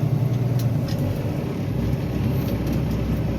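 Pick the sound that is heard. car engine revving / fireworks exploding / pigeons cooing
car engine revving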